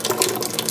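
Water poured into a container of saved tomato seeds to moisten them for fermenting, a brief steady splashing trickle, close and fairly loud, with no talking over it.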